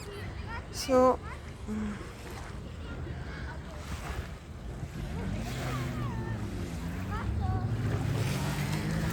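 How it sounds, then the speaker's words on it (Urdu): Small waves wash against the Lake Geneva shore in a low, steady surf hiss with some wind, fairly faint and continuous, while a voice briefly cuts in early on. "ساتھ ساتھ آپ ذرا یہ لہروں کی آواز دیکھیں"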